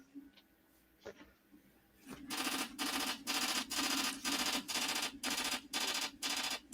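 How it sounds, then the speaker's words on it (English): A 3D printer runs close by, starting after a quiet stretch with a few faint knocks and then settling into harsh, evenly repeating buzzing bursts, about two per second. "That's my 3D printer."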